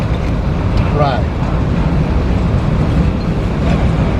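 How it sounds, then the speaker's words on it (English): A long freight train, the Tropicana juice train, passing by on Adamo Drive near the CSX yard, a continuous loud low rumble and rolling clatter that stays steady with no break, with people talking over it. "Pretty long train."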